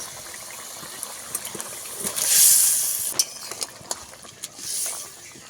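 Fried bogo fish goes into boiling spicy gravy, producing two soft splashy gushes of liquid with scattered light clinks of utensils in between, close and moderately loud, with no speech.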